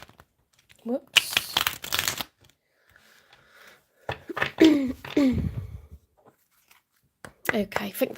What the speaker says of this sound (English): I think that's enough shuffles for Taurus.